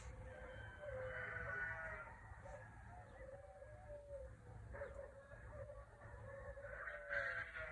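Sheep on a ranch in the early morning bleat faintly in a few wavering calls from some distance. A quiet background of other farm and bird sounds runs underneath.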